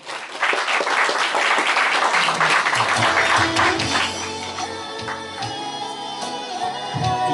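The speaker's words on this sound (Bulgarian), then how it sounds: "Нашите аплодисменти" An audience at a Bulgarian mayoral candidacy event in Cherven Bryag breaks into loud, dense applause that thins after a few seconds, leaving scattered claps under sustained tones.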